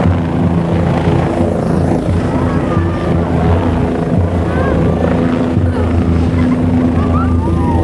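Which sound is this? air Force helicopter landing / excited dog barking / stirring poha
air Force helicopter landing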